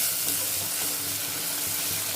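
Onions and green chillies fry for a tamarind toor dal soup, a continuous close sizzling hiss holding steady throughout with faint stirring underneath.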